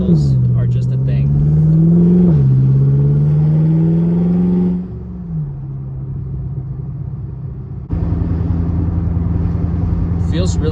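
A BMW F10 M5 with Turner muffler deletes runs with a loud, deep exhaust drone that rises and settles with throttle, drops to a lower rumble, then swells again, with a voice talking over it.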